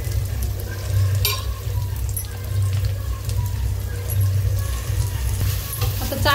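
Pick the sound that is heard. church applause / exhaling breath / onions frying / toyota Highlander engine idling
onions frying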